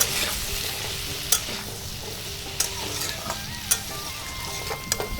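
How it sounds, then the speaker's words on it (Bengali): Potato and papaya pieces fry with salt and turmeric in a pan, a steady close sizzle punctuated by several sharp spatula knocks and scrapes as they are stirred. "লবণ হলুদ দিয়ে বেশ ভালো করে একটু ভাজতে হবে আলু আর পেঁপেটা"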